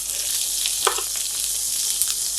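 Onions sizzle in a hot pan for a Philly cheesesteak, a steady bright hiss with a few soft clicks of movement, close and continuous with no talk.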